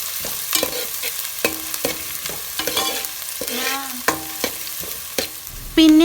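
Chopped garlic and onion sautéing in a pan for an Onam sambar. A soft, close sizzle is punctuated by repeated spoon scrapes and clinks, with faint whistling tones in the background.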